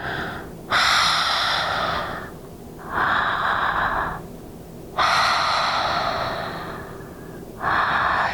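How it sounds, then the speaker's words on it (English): Slow, steady Ujjayi yoga breathing with a raspy, ocean-like hiss on each breath, four long breaths in a row, close and fairly loud over a low room hum. "We're going to practice Ujjayi breathing."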